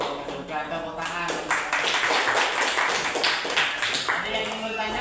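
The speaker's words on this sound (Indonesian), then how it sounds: "Tepuk tangan" Classroom applause from a group of students, dense steady clapping that swells after the first second and holds at a fairly loud, even level, with some voices mixed in.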